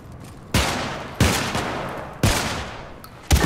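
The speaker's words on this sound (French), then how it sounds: "C'est juste qu'il a un gros fusil à pompe." Four heavy shotgun blasts from the video game Syndicate boom out at roughly one-second intervals, each a loud sharp crack trailing into a short decaying echo, with no voices.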